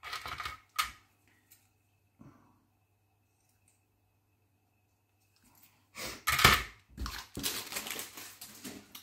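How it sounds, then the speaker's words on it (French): A piece of cord is cut to length, with a few short crisp snips and handling noises separated by near silence, followed by a cluster of louder rustling and scraping near the end. "Donc j'ai coupé un morceau de 9 cm"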